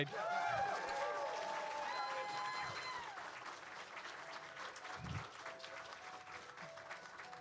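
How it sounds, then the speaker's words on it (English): Audience applause for contestants at a speedrunning event panel, a soft crowd clapping under tonal game music and effects, fairly faint and steady throughout. "can we get a round of applause for the contestants?"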